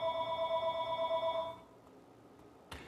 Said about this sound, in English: You're just gonna keep talking while the phone's ringing.